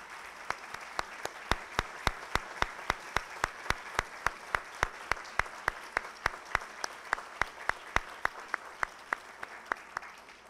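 An audience gives sustained, evenly paced applause at an installation ceremony, sharp claps ringing out in a steady rhythm for about ten seconds, near and clear with no talk over it.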